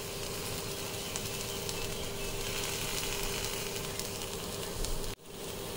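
Peanuts with their skins on fry in a pan with turmeric and chili powder, a steady close sizzle and hiss running throughout, with a brief drop near the end.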